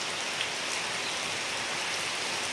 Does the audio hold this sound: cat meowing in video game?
no